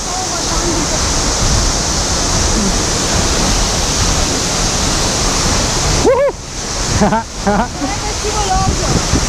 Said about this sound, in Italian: siamo dentro la cascata